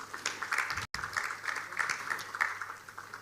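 Audience applause at the Africa International Housing Show 2022 as a cement company's sales head is welcomed on stage: a steady, dense patter of many hands over a low hum, with one brief dropout partway through.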